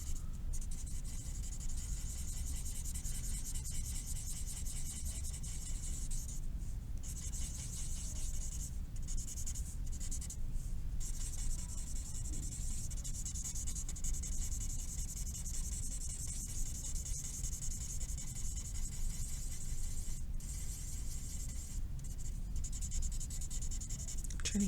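A pencil shades the top of a drawn ice cream cone on paper, giving a soft, continuous scratchy rubbing that runs quietly and steadily throughout, with brief pauses between strokes.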